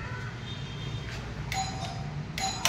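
An electronic doorbell at a home entrance chimes twice, a faint two-tone ding-dong over low room noise and murmuring background sound.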